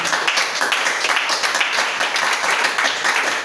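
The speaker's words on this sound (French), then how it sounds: "acclamons Jésus." A church congregation applauding during a French-language worship service, a steady, dense clapping that carries evenly for several seconds.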